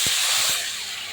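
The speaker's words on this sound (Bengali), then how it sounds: "এবার আমি দিয়ে দেবো জল" Water poured into a hot pan of fried bitter gourd and potato, a sharp close hiss of steam with a couple of thumps at the start, fading slightly.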